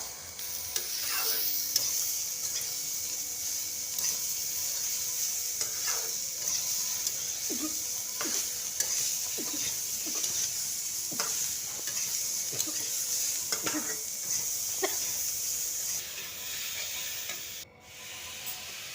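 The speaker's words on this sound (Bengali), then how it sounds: "আবারও আমি ভালো করে এটাকে মিক্স করে নেবো সব" Cauliflower curry being stirred in a frying pan, a steady sizzle with repeated scraping strokes of the spoon throughout, close and fairly loud, briefly cutting off near the end.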